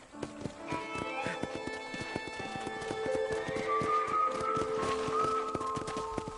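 Horse hooves clip-clop at a steady walking rhythm in the Red Dead Redemption video game, with a whinny and soft game music underneath.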